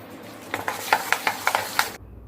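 Gram-flour pakoras with onion, chilli and coriander fry in oil with a close crackling sizzle and a quick series of sharp stirring clinks, then cut off abruptly.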